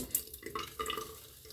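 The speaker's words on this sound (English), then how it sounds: "Let's get a little more water." Water runs briefly from a tap during a wet shave with a safety razor, a faint trickling splash with a few irregular pulses and drips and no one talking.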